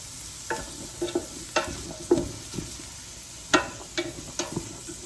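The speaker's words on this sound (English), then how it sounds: "And then I'm just going to stir until they are kind of brown." Food frying in a pot for red pork pozole is stirred in several distinct scraping strokes, each a short clattering burst over a faint steady sizzle, close and fairly quiet with no talking.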